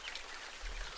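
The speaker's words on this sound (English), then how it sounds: "Barnabus and Bea will have to wait until the rain stops before they can go home" Steady rain falls in a children's cartoon thunderstorm scene, a dense, even wash of patter with no voices over it.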